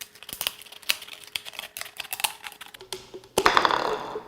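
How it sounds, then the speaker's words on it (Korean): Scissors snip through material in a weather-service rain gauge experiment, making a rapid series of close, crisp clicks that grow louder and busier toward the end. "이 정도만 자르고 가위로 나머지 자르겠습니다"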